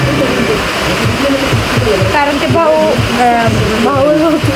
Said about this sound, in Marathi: बाहेर पाऊस पडायला लागलाय